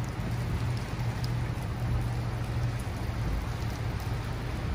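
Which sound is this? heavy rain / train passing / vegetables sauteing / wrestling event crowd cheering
heavy rain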